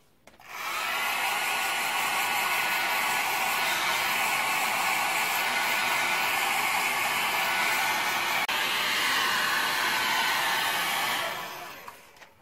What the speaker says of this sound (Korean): 드라이기로 잠깐 좀 말려드릴게요.